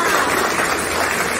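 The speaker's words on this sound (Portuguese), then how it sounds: "Uma salva de palmas para esse povo todo." An audience at a heritage event talk in Boituva applauds, a dense, steady wash of clapping from many hands that fills the whole moment without a break.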